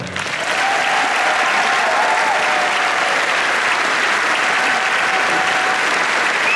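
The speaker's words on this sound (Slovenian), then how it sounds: "prosim, če lahko vsem trem še enkrat zaploskate" Concert audience at a live performance by a Slovenian group gives loud, dense, sustained applause that fills the whole stretch steadily from start to finish.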